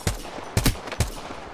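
Gunfire from the Apex Legends video game: three or four quick, fairly quiet shots spaced across a short moment, with no voices.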